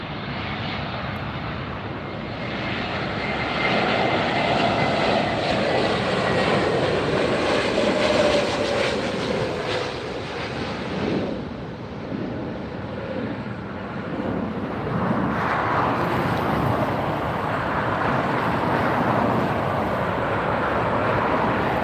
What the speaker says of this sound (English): Next flight is Delta, arriving from Honolulu